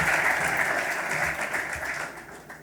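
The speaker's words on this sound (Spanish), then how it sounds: "Un aplauso, por favor." Audience applause for a speaker at a talk on biodiversity and international cooperativism, a dense, steady wash of many hands clapping that fades slightly toward the end, without speech.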